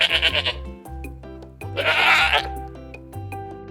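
A goat bleats in a few loud, wavering calls, with a steady musical backing running underneath throughout.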